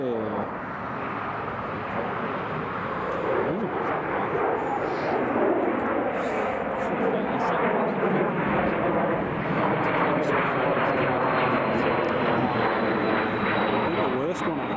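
An Emirates Airbus A350XWB takes off from Newcastle International Airport, a loud, steady engine roar that fills the whole stretch with broadband noise and a gently shifting whine.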